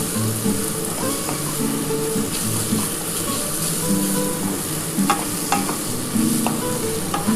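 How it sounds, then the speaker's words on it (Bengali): Beetroot being stirred in a pan with fried peanuts and green chillies, with close scraping strokes and clicks over a soft, steady sizzle and no talking. "এবার এই বিটটার সাথে ভালো করে নাড়াচাড়া করতে হবে"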